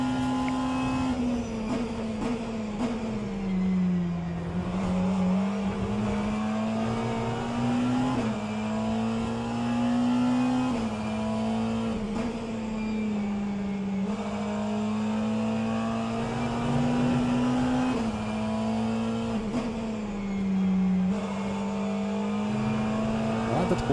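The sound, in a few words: race cars including a Porsche in a sim racing game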